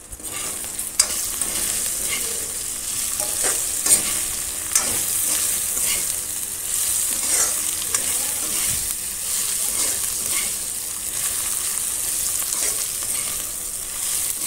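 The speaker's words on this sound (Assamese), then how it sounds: "5 মিনিট মান সময় এনেকৈ ভালকৈ লৰাই লৰাই মই ভাজি ললো" Dried fish sizzles steadily in hot oil in a village kitchen in Assam and is stirred for about five minutes. Regular scraping strokes cut through the constant close frying hiss, and no one speaks.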